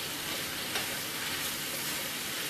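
Fried cabbage cooked with bacon sizzles in a pan while being stirred, a dense, even hiss with a scrape of the utensil near the start, close and steady with no talking.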